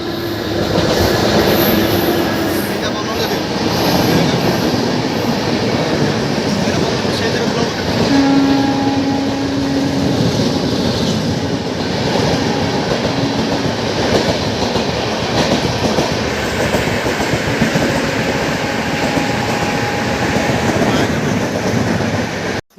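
A train pulls into a railway station with a loud, continuous rumble and rattle of wagons close by. Horn tones sound over it.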